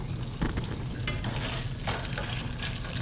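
Sliced mushrooms sizzle and fry in a pan for chicken Marsala, with close stirring scrapes and occasional clinks of a utensil against the pan over a continuous crackle.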